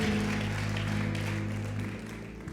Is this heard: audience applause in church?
yes